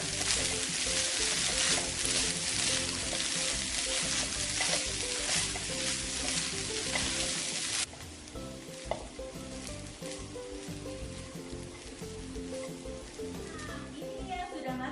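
Rice with spring onions and cikur (kencur) sizzles steadily in a hot pan while being stirred, a dense continuous frying crackle that drops somewhat softer partway through, with faint talk underneath.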